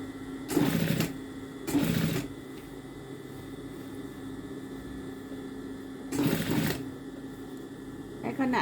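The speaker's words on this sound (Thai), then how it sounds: "คิ้วเส้นแรกก่อนนะคะเส้นที่หนึ่งเส้นที่ ชิดตะเข็บเราจะคิ้วเส้นนั้นก่อน" A sewing machine topstitches along a seam line on a garment in three short close bursts of rapid whirring stitching, separated by quiet pauses filled with a steady background hum, with a final brief start at the end.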